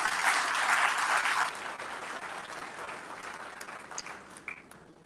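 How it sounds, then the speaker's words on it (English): A large audience at a formal award presentation ceremony breaks into sustained applause, loudest at first and then settling into steady, slightly thinner clapping for the remaining seconds. "Let us please celebrate these resilient leaders with a resounding round of applause."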